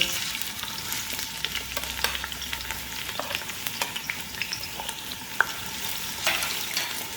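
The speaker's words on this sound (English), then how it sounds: "Let it heat up. Add sliced onion." Sliced onion sizzles in hot oil in a pan, a dense steady crackle with occasional sharp pops and light stirring taps, close and alone.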